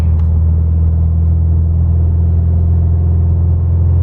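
A loud, steady low rumble of a car engine idling, with a deep vibrating drone heard from inside the vehicle.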